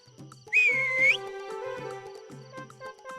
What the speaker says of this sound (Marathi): तू शिट्टी मार ना